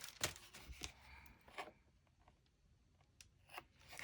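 Scissors snip through folded watercolor paper in a few quick, crisp cuts near the start, followed by quieter rustles and a couple of faint clips, close and alone with no talking.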